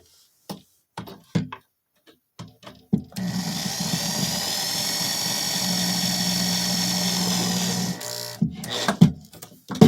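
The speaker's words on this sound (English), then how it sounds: "if you have a drill like this, it'll literally take you a matter of seconds just to finish" A power drill drives screws into a desk, whirring steadily for several seconds, its motor pitch holding then dropping as it stops, with short clicks and knocks before and after.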